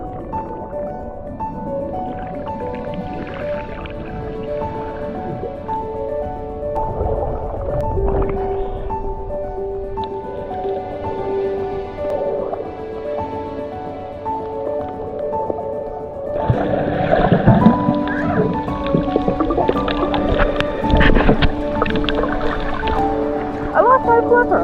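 Swimmers snorkel in the sea at Agua Verde, Baja, with muffled underwater sloshing, bubbling and droning tones, then louder churning splashes in the last few seconds.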